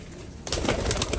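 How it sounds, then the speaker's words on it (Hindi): Pigeons, including a heavy bird and a Rampuri female, flutter and coo close by; the sound starts quiet, then becomes a louder, busy burst of wing and bird noise partway through. "ये हब्बी है कबूतर"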